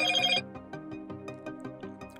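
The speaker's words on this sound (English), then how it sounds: "ringtone sound" Ringtone from a Motorola Razr 50 Ultra phone: a loud, bright opening tone, then a steady repeating melodic pattern of short notes.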